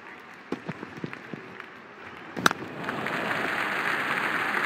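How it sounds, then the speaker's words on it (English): Game crowd noise from the Real Cricket video game during a T20 league match, Lucknow Super Giants against Royal Challengers Bangalore: a sharp burst around the middle swells into sustained, loud crowd roar that carries on to the end. "Crowd going mad here."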